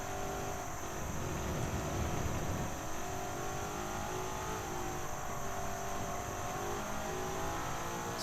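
A race car engine droning steadily at speed around a track in a racing video game, a continuous buzzing whine with a slight swell of revving early on, heard alone without talk.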